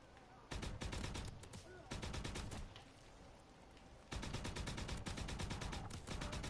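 Gunfire from a newly picked-up gun in the WW2 Zombies game The Final Reich, rapid bursts of loud shots in dense repeated volleys with short pauses, steady and close throughout.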